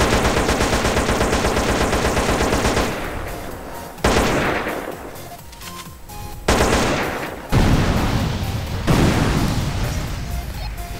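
Sustained automatic fire from M4 and AK-47 rifles in the video game GTA San Andreas, dense loud bursts rattling on, broken by a few pauses and fresh volleys, with no talking.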